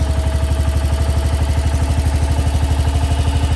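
Engine of a 1968 Case 155 garden tractor idling after long storage, a steady close, loud rhythmic chugging with fast even pulses and light clatter, no talk.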